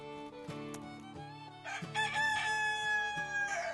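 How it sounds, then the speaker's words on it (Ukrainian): A rooster crows a long, drawn-out call over a steady tonal musical background, loud and clear. "Чує, півень пісні виспівує."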